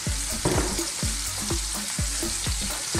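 Onion and garlic fry in olive oil over high heat, giving a steady loud sizzle broken by a regular rhythm of scraping stirring strokes about twice a second.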